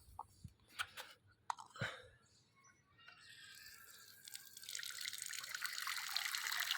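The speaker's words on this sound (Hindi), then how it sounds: "अब इनको पानी डालते हैं।" Tap water runs and pours into a rooftop washing basin as dishes are rinsed, starting with a few faint splashes and clinks and building to a steady, fairly quiet rushing stream over the last few seconds.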